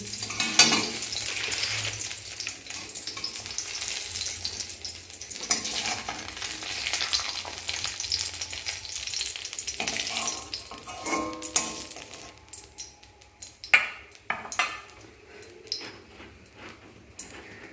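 Eggplant slices fry in oil in a wok, a continuous hiss of sizzling with occasional clinks and scraping of utensils as pieces are turned and lifted out.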